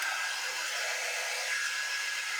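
Hair dryer blowing steadily to dry damp paste on a wooden farmhouse tiered tray, a constant close whooshing hiss with no talk.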